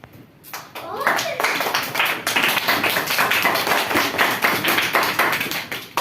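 An audience applauding after a student's advertisement presentation for Tata tea, a few scattered claps swelling quickly into sustained, dense clapping from many hands that holds steady to the end.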